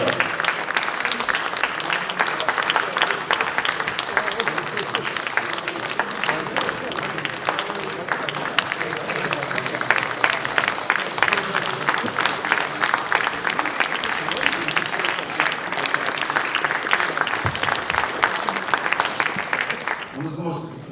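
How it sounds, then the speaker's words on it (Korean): Members at a People Power Party caucus meeting applaud as candidates enter, a long, sustained burst of dense indoor clapping from a sizeable crowd that fades at the very end. "국민의힘에서는 큰 박수로 환영해 주시기를"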